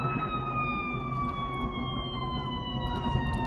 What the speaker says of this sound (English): Another ambulance going by.